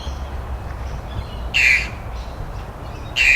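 Two harsh, squawking bowerbird calls in the Wollongong Botanic Gardens, spaced a couple of seconds apart over steady outdoor background noise.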